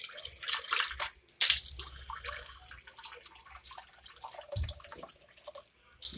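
Water poured into bird containers: splashing and trickling in uneven bursts with brief pauses, close by, with no talk.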